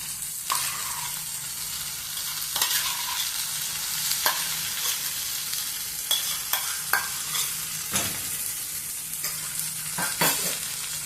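Cooked toor dal and tamarind juice being stirred into sambar in a pot, with a steady low sizzle broken by repeated sharp ladle clinks and scrapes.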